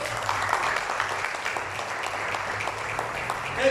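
A church congregation applauding the Lord during a sermon, a steady wash of many hands clapping close and continuous for a few seconds, rising slightly at the end.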